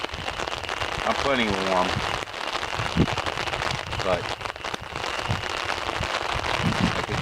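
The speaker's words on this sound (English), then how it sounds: "I could do without the rain." Steady pouring rain patters continuously around a campsite on an overnight canoe trip along the Moose River, about 50 degrees, while someone speaks briefly over the hiss of the downpour.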